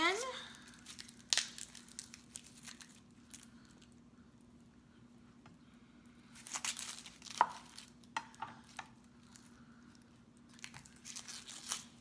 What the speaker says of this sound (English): I'm just gonna cut the onion